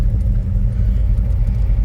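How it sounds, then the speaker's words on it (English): A 1976 Chevy Nova's small engine idles steadily after warming up, a close, even low rumble with no other sounds over it. "it idling at 50, and the little motor seems pretty stout"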